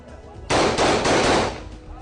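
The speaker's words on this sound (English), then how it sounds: "Someone had just acquired a gun and was testing it." A newly acquired gun is test-fired in Mogadishu, a sudden loud burst of several rapid shots lasting about a second, fairly close and echoing before fading into background noise.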